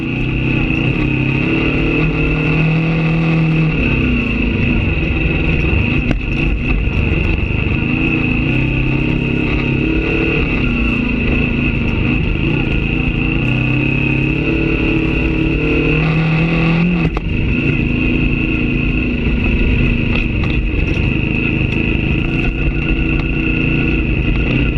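A Kawasaki Versys-X adventure motorcycle ridden on dirt on stock gearing, with the clutch slipped to pull away. Its engine gives a loud, steady drone throughout, with slight rises and dips in pitch and no talk.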